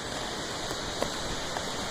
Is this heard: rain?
yes